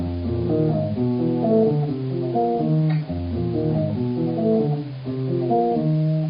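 A clean, warm electric guitar plays a flowing single-note jazz line with quick chromatic passing notes, steady and unaccompanied.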